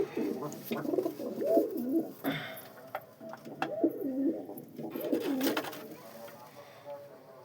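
Several pigeons coo in repeated throaty, rolling phrases close by over about seven seconds, with a few soft knocks and rustles between calls.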